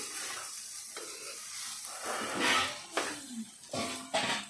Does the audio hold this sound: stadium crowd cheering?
no